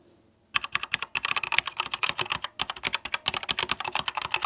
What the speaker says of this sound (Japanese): ちょっとマイク持ってきたんでこのキーの音を聞いてほしいんですけど